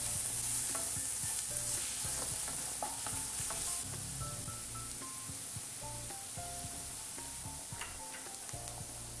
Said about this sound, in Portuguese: Aí aqui eu vou deixar dar uma leve fritada